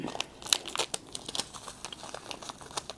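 A seasoning sachet for a kuay jap noodle soup crinkles and tears as it is opened, a quiet, close run of irregular crackles and rustles.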